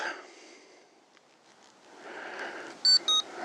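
Two short electronic confirmation beeps from the Yuneec Breeze drone app, sounding close and clear near the end after a quiet stretch of faint background noise.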